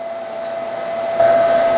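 Electric meat grinder running steadily while grinding chilled meat for Italian pepperoni: a close, constant motor whine with a fixed hum that grows slightly louder near the end.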